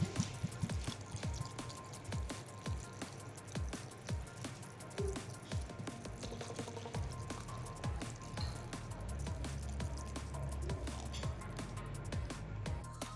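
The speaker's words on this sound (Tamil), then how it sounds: "பால்சமிக் வினிகரை உள்ளே விடுறோம்" Balsamic vinegar poured into an apple cider vinegar pickle, heard as a run of close, wet drips and splashes that thickens into a steady pouring trickle in the second half, with no voices.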